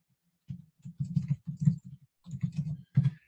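Fingers type on a computer keyboard in quick, close bursts of crisp key clicks, with short pauses between groups of strokes.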